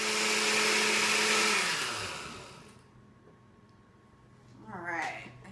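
A blender grinds soaked almonds for homemade almond milk with a loud steady whir that winds down after about two seconds, followed by quiet and a brief voice.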